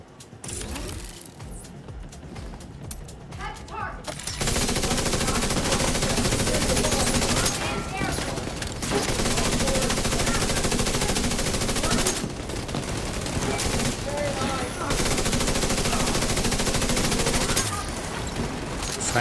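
Sustained sniper and other gunfire in The Division 2 shooter game, a dense loud barrage of shots running almost continuously after a quieter opening, with mechanical clatter mixed in.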